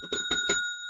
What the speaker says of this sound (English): Chicken's gonna ring the bell.